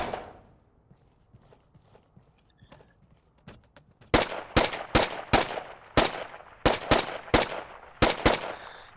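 Video game gunfire at a shooting range: after a quiet stretch, about a dozen sharp, loud shots crack in quick, slightly uneven bursts, close and alone.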